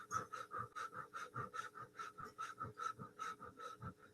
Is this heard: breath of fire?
yes